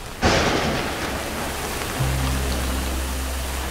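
Steady heavy rain in a thunderstorm, beginning abruptly as a loud broadband hiss and continuing with a deep low rumble of thunder rolling in underneath halfway through.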